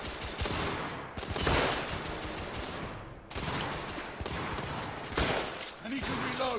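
Heavy gunfire in the video game The Order: 1886 rattles in dense, loud bursts, rapid automatic volleys broken by brief pauses, with a player's voice heard talking between shots.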